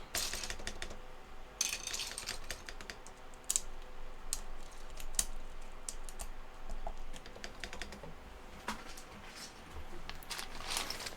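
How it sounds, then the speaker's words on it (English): Keycaps being pried off a mechanical keyboard give a dense run of close plastic clicks, rattles and clacks that come unevenly through the whole stretch, with no talk. "We have to take some keycaps out."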